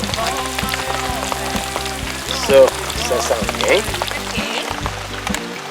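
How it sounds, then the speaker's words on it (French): Steady rain patters outdoors at a riverside catch-and-cook camp with a small tarp strung up, a constant hiss running beneath someone speaking French and occasional cooking clatter. "à noter qu'il pleut"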